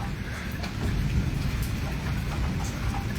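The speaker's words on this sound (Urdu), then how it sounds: "بارش ہو رہی ہے بہت بہت خطرناک طوفان ہے" Heavy rain pours steadily during a fierce thunderstorm in Islamabad, Pakistan, a dense, even wash of drops with a low rumbling undertone, fairly close and without pause.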